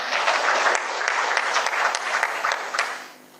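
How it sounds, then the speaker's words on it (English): Applause rises for a keynote speaker at an economic forum, a steady patter of many hands clapping at moderate volume that tapers off at the end. "Can we give him a very big clap?"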